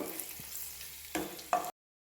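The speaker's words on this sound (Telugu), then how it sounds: "కాస్త నెయ్యి వేసుకొని ఇప్పుడు ఈ కాజు ఇందులో దోరగా ఫ్రై చేసుకుంటున్నాను" Cashews and raisins fry in ghee for carrot payasam, giving a brief soft sizzle broken by two sharper stirring bursts before cutting off abruptly.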